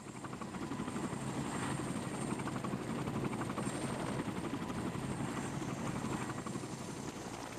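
Military helicopters in Vietnam War footage thump and drone continuously, a dense, steady rotor chop with engine whine at moderate distance and no talk.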